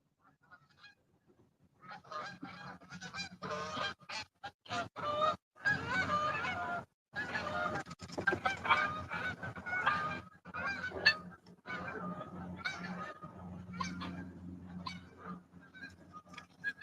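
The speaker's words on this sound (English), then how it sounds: "Oh, we got geese coming in." A flock of geese flies in over a river, honking repeatedly in loud, overlapping bursts that grow denser and continue steadily, close by and heard alone.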